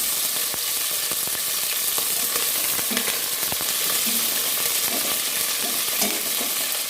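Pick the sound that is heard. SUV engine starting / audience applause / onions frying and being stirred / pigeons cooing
onions frying and being stirred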